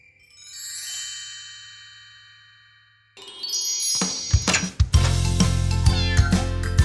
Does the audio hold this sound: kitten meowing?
yes